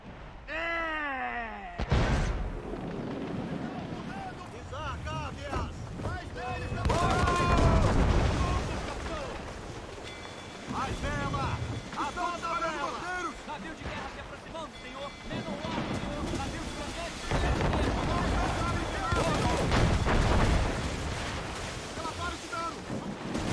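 Booming cannon blasts from a ship battle in Assassin's Creed Rogue, heavy rumbling shots mixed with crashing water, wind and voices shouting in Portuguese.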